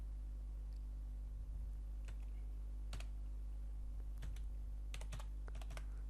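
Someone typing on a computer keyboard while editing, a few sparse, quiet key taps that sometimes come in quick small clusters over a steady low electrical hum.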